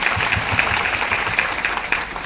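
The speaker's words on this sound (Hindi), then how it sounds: "मैं एक बार जोरदार सम्मान वाली तालियां हमारे पुरुष साथियों के लिए बजाना चाहूंगी।" A gathering at a business meeting breaks into brisk clapping in honour of the male members, a short burst of many hands that stays fairly loud and tapers slightly by the end.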